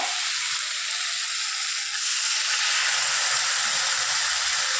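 Potatoes frying in a pan for egg curry sizzle loudly as water is added, a steady close hiss that holds for the whole stretch with no voices.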